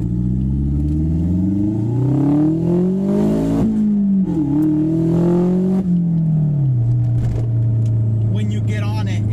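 A tuned car accelerates hard, its engine note climbing through gears in rising sweeps with brief dips at each shift, loud and close throughout.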